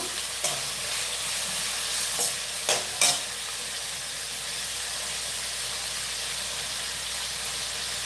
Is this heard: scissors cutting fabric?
no